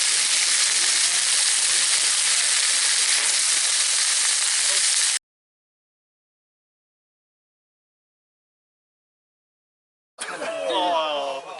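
Steak sizzling in olive oil in a pan at a summer camp: a loud, steady, hissing sizzle for about five seconds, then abrupt silence, then a voice talking.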